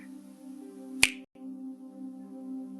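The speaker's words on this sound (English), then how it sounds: "every single time I snap my fingers" A single sharp finger snap lands about a second in, close and crisp, over a soft steady hum in a quiet room; a whispered, soft-spoken hypnosis setting.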